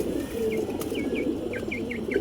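A young pigeon coos in a short series of soft, close calls over a steady low background rumble.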